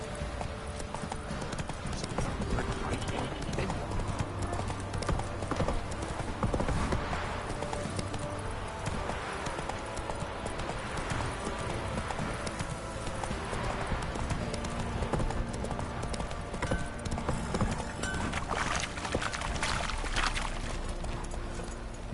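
Roach, a horse in the video game The Witcher, gallops steadily with rapid, rhythmic hoofbeats that continue throughout at a moderate, close distance.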